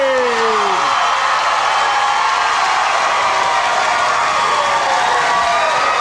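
A large street crowd at the Macy's Thanksgiving Day Parade cheers and whoops loudly and continuously, a dense wash of voices with a brief falling shout at the start.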